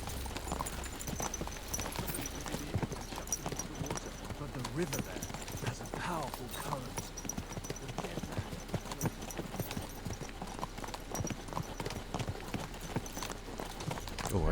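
Horse hooves clip-clop in a steady trotting rhythm while riding in the medieval game Kingdom Come: Deliverance II, running throughout at moderate level beneath a man's speech.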